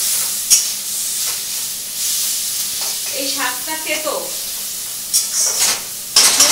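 Bitter greens, like neem leaves, fry with eggplant already cooking in a pan, giving a steady close hiss and sizzle while someone speaks over it.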